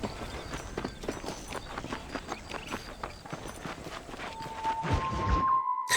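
A horse runs in Red Dead Redemption, its hooves drumming in a quick, steady rhythm close by over outdoor game ambience, ending with a rising tone and an abrupt cut.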